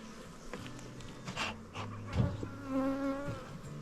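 Honeybees buzz steadily around an open hive in the apiary, a close, continuous insect drone with individual bees passing near and fading, and no voices.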